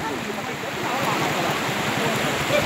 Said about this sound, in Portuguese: Rio transbordando com muita água.